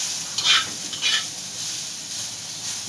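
Crushed dried coconut tossed into a hot pan with whole spices for urad dal curry, a steady close sizzle of roasting with two brief scraping stirs near the start.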